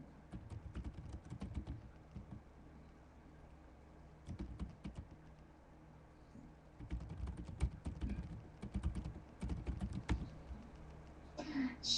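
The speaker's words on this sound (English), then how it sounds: "She is typing up a storm." Bursts of rapid keyboard typing, clattering keys in quick runs with short pauses between, close and fairly quiet.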